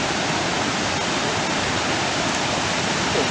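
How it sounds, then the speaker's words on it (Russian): The roar of the Letchworth Park waterfalls, a steady, dense wash of rushing water that stays loud and unbroken, with no voices over it. "Смотри, как слышно шум воды, шум водопадов."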